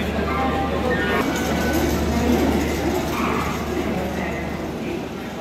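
Steady rumble and rhythmic clatter of wheels inside a 3rd AC coach of the Poorva Express running from Howrah toward Tundla, continuous and close, with voices murmuring in the background.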